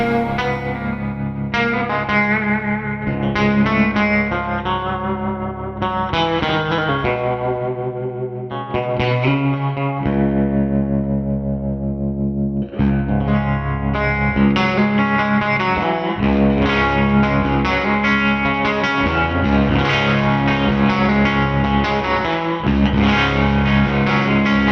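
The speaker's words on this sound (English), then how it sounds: "This is a 1964 Fender Princeton Reverb, arguably the greatest recording amp of all time" Electric guitar played through a 1964 Fender Princeton Reverb amp, loud distorted chords and riffs with chorus, echo and reverb, ringing sustained notes with brief pauses between phrases.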